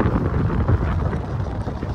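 Cold wind blows steadily across the microphone outdoors, a dense low rumbling gust that fills the whole stretch without pause.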